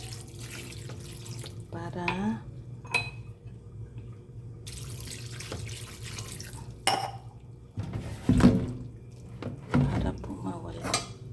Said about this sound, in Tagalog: Tapos hugasan po natin ng tubig na inumin.